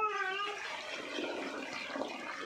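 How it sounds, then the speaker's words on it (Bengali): Water pours and splashes into a cement and sand mix, a steady wet rushing wash that holds for the whole stretch at moderate loudness, with no talk over it. "এখন পানি দিচ্ছে এই করে সিমেন্ট বালু মিশানো"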